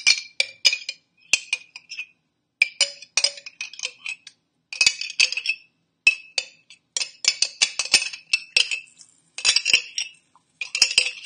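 A spoon mixes dressing into rice in a bowl, giving repeated close clinks and scrapes in short bursts separated by brief pauses.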